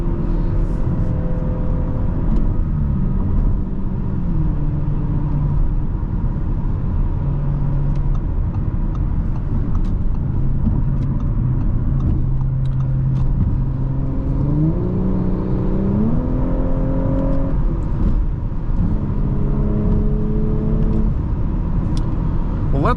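2024 Audi S5 3.0T Sportback cruising on the road, its engine a smooth steady hum with gentle rising and falling revs as it shifts, under continuous road and cabin rumble.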